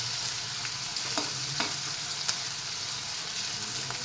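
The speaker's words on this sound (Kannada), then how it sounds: "ಮೀಡಿಯಮ್ ಫ್ಲೇಮಲ್ಲಿ ನೀಟಾಗಿ ಯೆಲ್ಲೋಯಿಶ್ ಬರೋವರೆಗೂ ಸ್ವಲ್ಪ ನೀಟಾಗಿ ಫ್ರೈ ಮಾಡ್ಕೊತಾ ಇರ್ಬೇಕು." Food frying in a pan over a medium flame while making egg curry, a steady close sizzle with a few faint stirring scrapes and no talk.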